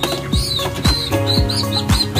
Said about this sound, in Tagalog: Ito yung ibon ni Sir Jun